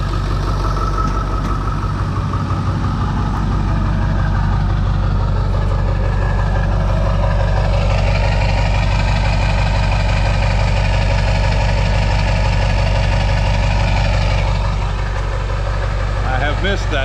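A Ford 7.3 diesel engine idles after three years of sitting, with a loud, steady, low rumble and a fast, even clatter that holds the whole time.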